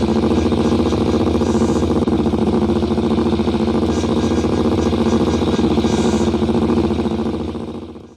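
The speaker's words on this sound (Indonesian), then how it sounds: "Mode trafik motor gede, atau moge sport." Big sport motorcycle traffic engines from Bus Simulator Indonesia, a loud continuous buzzing drone held steady for several seconds before fading out at the end, with no talk.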